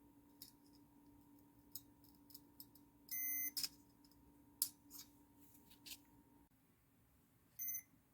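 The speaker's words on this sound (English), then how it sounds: "now I have continuity. So there's the buzzer." A continuity tester buzzer in a hair dryer repair sounds a few short bursts, with brief beeps around three and eight seconds among small clicks, faint and close, against a steady low electrical hum.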